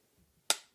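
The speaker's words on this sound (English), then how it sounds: "clap that one at your camera over here" A single sharp hand clap made at a camera for sync, one crisp isolated snap after near silence, close and brief.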